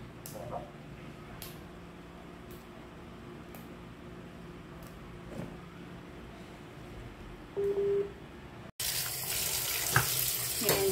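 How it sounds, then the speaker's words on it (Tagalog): String beans are rinsed in a kitchen sink as tap water suddenly gushes loudly and steadily near the end, after quieter handling and light clatter. "Yan, hugasan natin guys."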